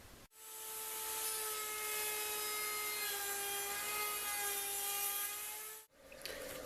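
A router table fitted with a round-over bit cuts a bead along a wooden piece held by a round fence and featherboard, giving a steady, loud, high whine with tonal ringing that runs unbroken for several seconds before stopping abruptly.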